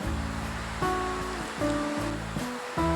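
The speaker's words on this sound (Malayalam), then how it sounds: "പുറത്ത് നല്ല മഴയാണ് മഴയുടെ സൗണ്ട് കേൾക്കാം" Heavy rain falls outside as a constant broad hiss, steady and unbroken, with background music playing over it.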